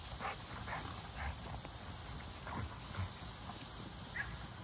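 Zeus the puppy plays nearby, with scattered yips, scuffles and soft paw noises over a faint background hiss.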